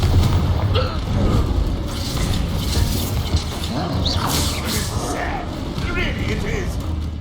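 Confringo fire-bolt spell blasting in the Hogwarts Legacy video game, a dense rumbling burst of explosive impacts and clattering mechanical effects over a steady loud game backdrop, with a voice speaking.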